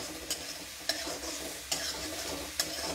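Ingredients are stirred and roasted in a pan, a faint, steady sizzle broken by four soft scraping strokes.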